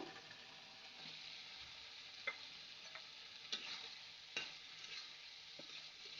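Tomato frying with spice paste in a pan for a pabda fish curry, a faint continuous sizzle with occasional soft taps of the stirring spoon against the pan.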